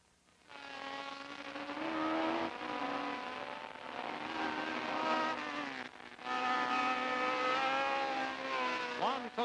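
Open-wheel March and Chevron race cars compete at the 1976 Canadian Atlantic Series race at Atlantic Motorsport Park, engines screaming past in loud sustained passes with rising and falling pitch, several cars in succession, under a commentator's voice.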